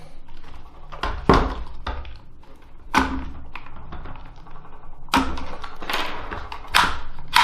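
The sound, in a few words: pulling takedown pins out of an IWI X95 Tavor rifle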